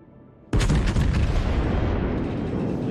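A warship's main battery fires in World of Warships, a sudden heavy boom followed by a long rumbling roar of naval gunfire that fills the rest of the moment.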